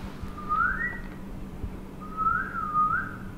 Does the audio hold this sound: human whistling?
yes